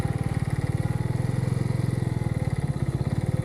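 A small motorcycle engine on a crisp morning ride around Mt Cotton, running with a steady, fast pulsing chug at close range. It holds an even loud drone throughout with no talk over it.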